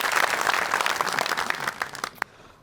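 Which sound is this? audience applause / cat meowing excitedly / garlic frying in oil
audience applause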